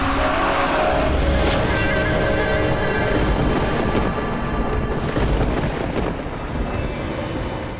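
A car drives off with a steady engine rumble and road noise that stay loud and close before easing slightly toward the end.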